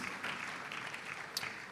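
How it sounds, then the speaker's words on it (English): A conference audience applauds a speaker and panel at a church-run event, a soft, distant wash of clapping with a single sharper clap near the end. "Please, a round of applause for both the speaker and"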